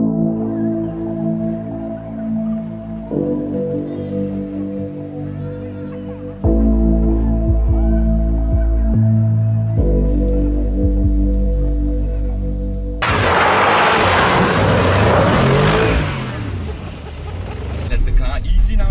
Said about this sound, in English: how well this car goes sideways